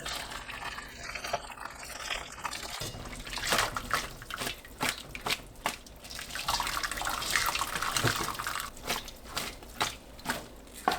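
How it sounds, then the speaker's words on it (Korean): Fish cakes are rinsed under hot running water from a kitchen tap, a steady close splashing stream with uneven surges as the water hits the food. "어묵을 뜨거운 물로 헹굽니다."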